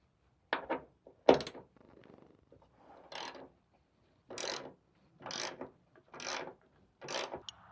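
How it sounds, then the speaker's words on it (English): Ratcheting clicks from a T50 bit undoing the cable bolt on a Ford Ranger, a couple of sharp close clacks followed by five evenly spaced bursts of ratchet action with quiet pauses between. "We're going to undo the bolt that holds on to the cable."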